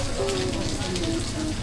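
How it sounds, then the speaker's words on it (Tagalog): Steady rain patters on surfaces during a roadside stop on a motorbike trip through Bulacan, a continuous close hiss with faint tonal sounds underneath. "Nabutan ako ng ulan dito sa may Bulacan."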